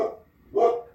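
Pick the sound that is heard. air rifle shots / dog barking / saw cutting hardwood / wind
dog barking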